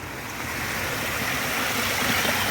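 Waterfall in Beechwood Park on a spring morning, a steady broadband rush of falling water filling the scene evenly, close and fairly loud with no voices.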